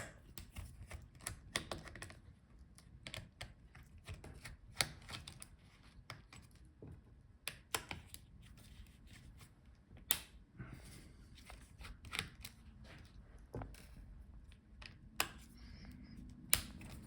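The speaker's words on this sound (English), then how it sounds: "So unscrew all the screws." Small screws are backed out of a Lenovo Legion Y740 15IRHG laptop, giving faint, sparse clicks and ticks from the screwdriver and loosened screws in a quiet room.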